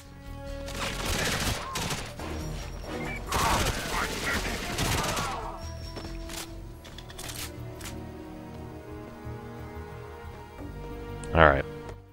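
Gunfire from GoldenEye 007 Reloaded, dense bursts of shots in the first half, then quieter game ambience with a sharp burst near the end.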